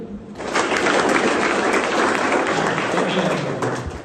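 Students in a school classroom clap together, a dense, sustained burst of applause that starts abruptly and holds steady at close range, with some voices mixed in.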